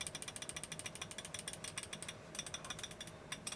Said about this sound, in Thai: ฟังเสียงนิดนึงว่า K Optical V2 เป็นไง